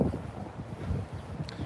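Gusty wind buffets the microphone with low, uneven rumbling and flutter, steady throughout with no one speaking.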